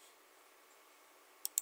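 A few quiet, crisp computer mouse clicks come in a quick cluster at the very end of a near-silent stretch.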